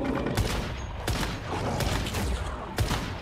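Rapid gunfire from the video game Once Human rattles in bursts, several sharp cracks spaced across a dense, loud bed of shooting and impact noise, with no voices over it.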